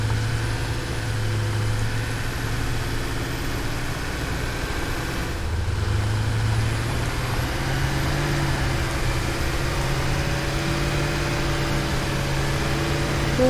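A vehicle in the video game Satisfactory drives along a road with a steady low engine hum and continuous rolling drone, moderately loud and unbroken, a slight pitch shift midway as it accelerates, with no talking.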